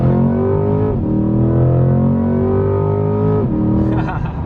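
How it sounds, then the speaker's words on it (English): Nissan GT-R engine revving hard under acceleration, heard from inside the car: loud rising pitch sweeps broken by quick gear-change drops, repeated twice, with a brief tire or road hiss near the end. "See, it's better when you rev it out."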